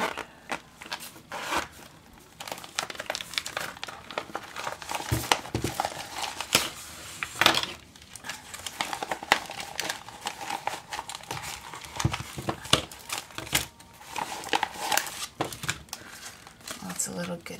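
A big paper doily crinkles and rustles as it is handled while unpacking a craft kit swap package, with repeated crumpling bursts throughout, fairly close, and someone talking intermittently.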